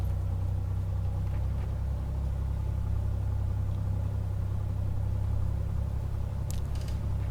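A Cessna 182 engine in a flight simulator game while taxiing, a steady low drone that holds constant throughout, with a faint brief click near the end and no voices.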